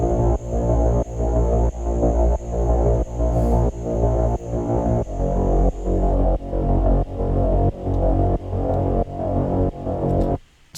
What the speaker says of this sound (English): Now this is some legit 80s style, heavy electronic bass